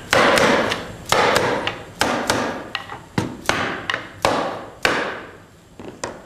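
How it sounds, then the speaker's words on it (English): Mallet tapping down on a scrap of wood laid over a laminated tabletop, a series of sharp, close wooden knocks in an uneven rhythm, each ringing briefly before the next strike. "The only thing I want to do now is tap down with the mallet"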